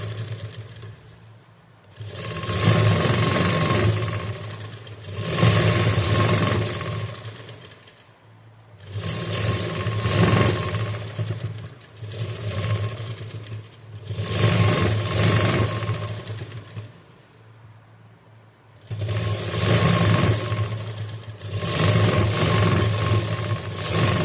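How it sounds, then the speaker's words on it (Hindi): A sewing machine stitches the seams of a gathered umbrella frock in loud, steady mechanical runs of several seconds each, separated by brief pauses, with no talking. "अब इसके साइड में एक और सिलाई कर लेंगे इसी के ऊपर।"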